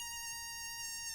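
A thin, steady high-pitched squeal holds one pitch for about a second, bright and whistling.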